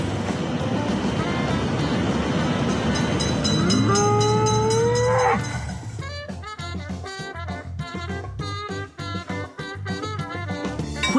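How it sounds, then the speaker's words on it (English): An approaching train in the Railroad Crossing Train Simulator mobile game sounds a loud rising horn over a rumbling engine, then gives way to a rapid rhythmic clatter of wheels on rails. "Train is in sight."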